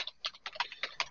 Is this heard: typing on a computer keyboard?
yes